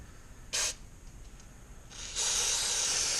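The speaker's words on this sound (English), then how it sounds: "I'm going to go ahead and just spray these with brake cleaner" Brake cleaner sprays from an aerosol can onto the brake pads of a 4WD truck, first as a short hissing burst, then as a longer steady hiss after a pause, close and fairly quiet.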